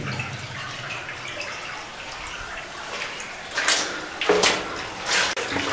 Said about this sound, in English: It's flowing water, and it's probably pretty clean too